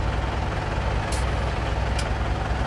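Low, steady engine drone of a tractor in a farming simulator game, running continuously at close range with a broadband rumble and two brief high hisses partway through.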